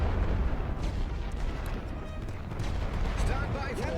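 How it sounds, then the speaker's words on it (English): Rifle and artillery fire in The Great War: Western Front, a WWI trench game: a continuous dense rumble of distant booms and shots running the whole stretch at steady loudness, with a voice talking over the barrage. "Just need to get in here before we get hit with rifle and artillery fire."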